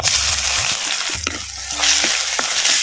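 Freshly ground garlic, ginger, green chili, cumin and pepper frying in oil in a pan, a loud continuous sizzle with a few scraping stirs, close and steady throughout.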